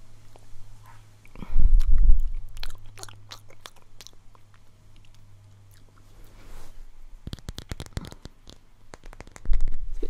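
Close, wet chewing of a chewy snack that has sat in a bag for a long time, with crunchy bites and clicking mouth sounds coming in bursts and pauses.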